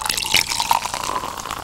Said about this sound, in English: soda being poured.